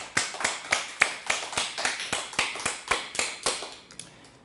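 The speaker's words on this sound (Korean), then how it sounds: "하나님께 영광의 박수 올려드립니다." A church congregation claps together during a Sunday service, with steady, evenly spaced rhythmic hand claps that stay fairly close and loud for several seconds and carry no talking.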